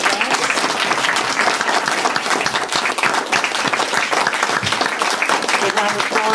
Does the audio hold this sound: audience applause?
yes